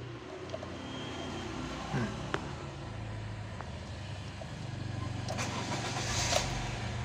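A manual car's engine cranks briefly with a few clicks and a whine, then catches and settles into a steady low idle that grows slightly louder, recorded close by.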